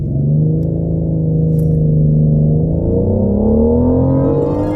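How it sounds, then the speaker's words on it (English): Twin-turbo V8 of a 2020 BMW 750Li launching under launch control, a loud, steady engine roar whose pitch climbs smoothly over a few seconds, heard close from inside the car. "You guys want to experience launch control?"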